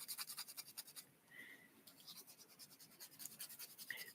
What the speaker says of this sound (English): I'm filing my fingernails with sandpaper.